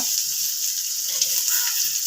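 Onion, beans and carrot crackle and sizzle in hot oil in a large pan, a close, steady frying hiss with faint stirring.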